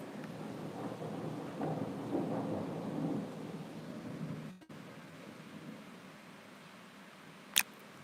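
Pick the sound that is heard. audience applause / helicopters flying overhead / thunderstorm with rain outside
thunderstorm with rain outside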